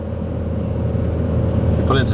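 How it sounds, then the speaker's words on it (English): A Super Cupra race car rumbles in the pits at Mondello, a steady low engine drone throughout with a brief revving rise near the end, moderately loud and close. "You pull into the pits, there's the Super Cupra out again"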